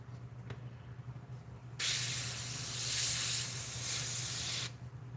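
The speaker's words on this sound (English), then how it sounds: "I want to spray there" A steady aerosol spray hisses for about three seconds, loud and close, then cuts off abruptly, with a low hum underneath throughout.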